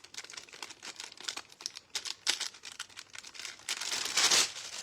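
Thin craft foil crinkles and rustles in quick, uneven bursts as it is handled up close, growing louder toward the end as it is crumpled more firmly.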